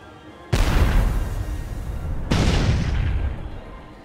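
A cannonball is fired twice in Dead Rising 4, each a loud sudden boom followed by a long rumbling decay, the second blast about two seconds after the first.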